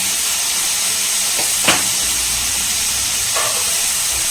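Cashews, almonds and coconut pieces sizzling while frying in a pan for a rajma gravy, a steady close hiss with a couple of brief louder bursts partway through.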